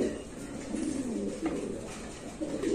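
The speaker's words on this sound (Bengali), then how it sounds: "আরেক জোড়া কবুতর ইনশাল্লাহ দেখাচ্ছি আপনাদের।" Pigeons kept for sale coo in low, repeated throaty rolls, close by and fairly loud over a steady background murmur.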